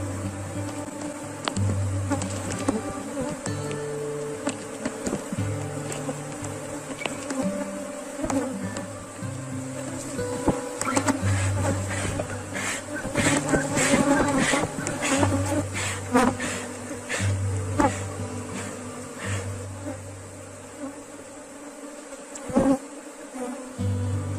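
A honeybee swarm buzzes steadily and densely at an open hive during beekeeping work, a close, continuous hum with occasional louder passes of individual bees near the ear and faint handling knocks.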